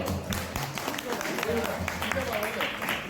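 An audience claps at a hospital's first anniversary celebration in Kengeri, Bengaluru: a dense, steady applause that runs throughout, with a voice talking over it.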